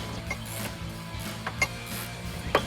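Ratchet clicks as bolts are tightened on a Jeep Wrangler 3-inch round side step bar, a few sharp mechanical ticks spaced irregularly over a steady low hum, close and moderately loud.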